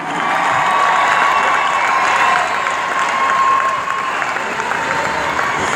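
A large crowd at the Gathering of Nations powwow applauds and cheers for Miss Indian World, a loud continuous roar of clapping and voices with a high sustained tone running through it.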